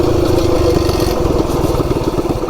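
Baja Warrior minibike engine running steadily at speed, a loud continuous buzzing drone with a rattling clatter throughout, held near and constant without letup.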